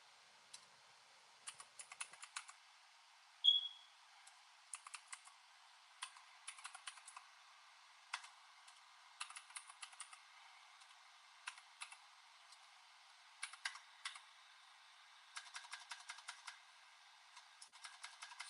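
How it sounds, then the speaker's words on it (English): A computer keyboard is typed on in quick irregular bursts of light clicks with short pauses between, close and fairly quiet in an otherwise silent room, with no talking. "I'm typing this up, so I'll give y'all all live accuracy."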